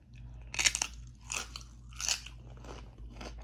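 A thick tortilla chip dipped in guacamole is bitten and chewed, giving several loud, close crunches in separate bursts over a low steady hum.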